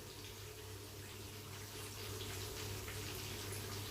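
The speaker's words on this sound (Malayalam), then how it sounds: "അപ്പോൾ കുറച്ച് വെള്ളം ആഡ് ചെയ്തിട്ടൊന്ന് ലൂസാക്കിയിട്ട് എടുക്കുക" Water poured into a spiced fish fry batter to loosen it, a faint, steady trickle running without a break and no voices.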